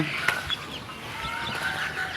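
Small bird chicks chirp in quick, high, scattered peeps over a steady background hiss, outdoors in fierce midday heat of about 47 degrees.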